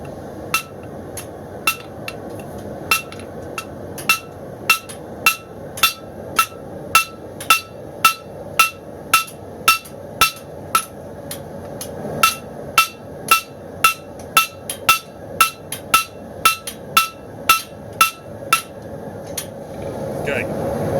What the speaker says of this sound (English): I'm going to do that over the horn of the anvil with the heel of my hammer